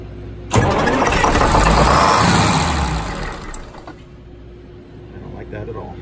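Twin Detroit Diesel 6-71 engines in a TIB boat crank and catch with a sudden loud roar, run rough and strong for a few seconds, then fade to a lower idle-like rumble; a voice speaks over it.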